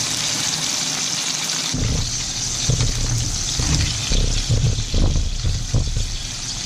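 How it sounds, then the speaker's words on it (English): A small splash of white wine goes into a hot pan of pippies for pasta carbonara, producing a burst of sizzling and bubbling that continues unevenly for several seconds. "just one more little splash of white wine"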